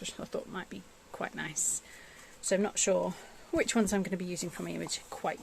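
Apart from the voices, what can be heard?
No distinct noise like a dog, phone or traffic.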